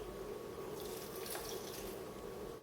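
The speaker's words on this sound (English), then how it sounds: "So I'm gonna add just about a 1/4 cup of water to see if we can't thin the mixture out just ever so slightly." About a quarter cup of water pours into a VitaMix blender jar holding a thick kale chip mixture, a close, steady rush of liquid that lasts almost to the end before cutting off.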